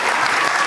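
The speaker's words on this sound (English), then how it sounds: "You're applauding." A studio audience at a daytime TV talk show bursts into dense, steady applause that fills the whole short moment, loud and close with no voices over it.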